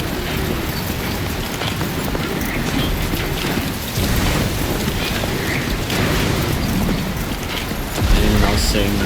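In the Death Stranding 2 video game, heavy rain pours loudly and continuously in a lightning storm, with rumbling thunder and crackling mechanical rattles, growing stronger toward the end.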